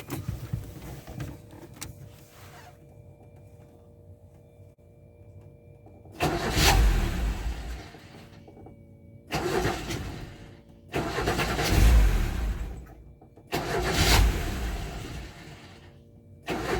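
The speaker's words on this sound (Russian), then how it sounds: "Все, сейчас запустил двигатель." A car engine cranks and fires in several separate loud bursts spread across the clip, with quiet idle stretches between them. The work takes place during a coolant system flush on a car whose cabin stays cold.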